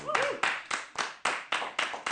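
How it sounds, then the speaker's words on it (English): A thin smattering of studio audience applause, roughly eight separate claps in a quick uneven rhythm, close and fairly quiet, with no voices over it. "Thanks, a smattering of applause"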